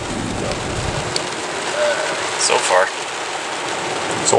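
Rain patters steadily through a rainy vacation day, a continuous mid-level hiss with a few brighter splashes and ticks on top.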